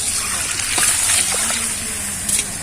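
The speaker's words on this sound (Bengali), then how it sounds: "এবার আমি কিন্তু জল দিয়ে দেবো।" Water poured into a pan of chicken curry that has been frying, making a loud, continuous wash of hiss and gushing sizzle, close up and without speech.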